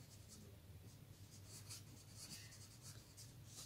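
A pen scratches on paper while a math solution is written out, quick soft scrawling strokes in short bursts, close and faint over a low background hum, with no speech.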